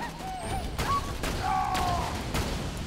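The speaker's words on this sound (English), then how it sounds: "that was a big explosion" Loud explosions and gunfire in the Borderlands 2 video game, several heavy booms and bursts over a continuous dense rumble across the whole stretch.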